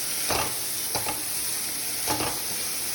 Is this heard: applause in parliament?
no